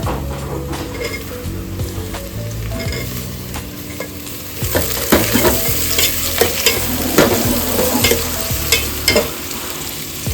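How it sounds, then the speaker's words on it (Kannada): Chopped capsicum stir-fries in a hot pan for capsicum rice, a steady loud sizzle with frequent scraping stirs of the spatula that grow busier and sharper midway through. "ಇವಾಗ ಸ್ವಲ್ಪ ಕ್ಯಾಪ್ಸಿಕಮ್ ಹಾಕೊಳ್ಳೋಣ."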